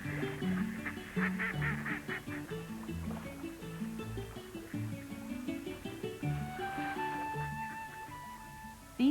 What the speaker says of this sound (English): These ducklings are only 2 days old.